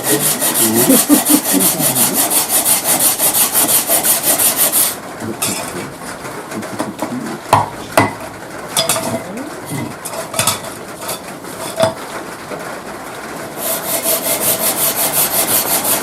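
Hand saw cutting the corners of a block of Lecce stone, rapid rhythmic rasping strokes loud and close, pausing mid-way for scattered knocks and scrapes before the steady sawing resumes.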